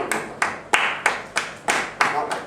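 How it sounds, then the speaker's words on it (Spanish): Sharp flamenco palmas sonoras for sevillanas, bright open-palm handclaps in a steady rhythm, eight crisp strikes over a few seconds, close and clear, with no talking. "Pues la sevillana seguro que todos sabemos hacer palmas, ¿verdad?"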